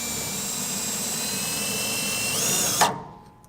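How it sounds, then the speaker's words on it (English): A power drill drives a self-tapping screw into the cross member of a 1997 Chevrolet truck, its steady high-pitched whine running loud and close for nearly three seconds before cutting off abruptly. "we got a self-tapping screw. We're just going to take that right here to this little cross member"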